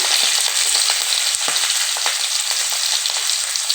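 Chopped onions dropped into hot oil on a gas stove, a dense, loud, continuous sizzle with faint stirring scrapes, no voices.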